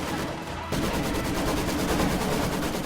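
Continuous rumbling gunfire and explosive battle noise from the WWII strategy video game Company of Heroes 2, loud and steady throughout, including mortar fire on an enemy infantry squad.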